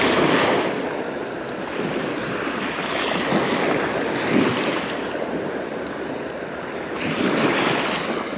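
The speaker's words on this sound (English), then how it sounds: "There you can see that bar. Waves breaking on it." Ocean surf breaks on a sandbar at a beach, heard as a continuous broad wash with swelling crashes every few seconds, mixed with wind noise on the microphone and no talk.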